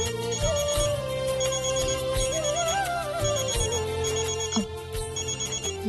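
A phone ringtone plays a repeating electronic melody, moderately loud and continuous, over a faint background hum.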